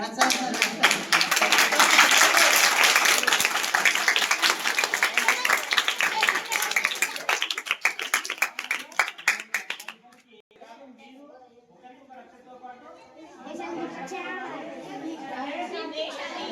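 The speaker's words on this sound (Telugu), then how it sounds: "వాళ్ళిద్దరికి ఒకసారి మనం క్లాప్ కొట్టి" A school audience at a Raksha Bandhan function claps loudly and continuously for about ten seconds, then the applause stops and children's chatter and a voice carry on more quietly.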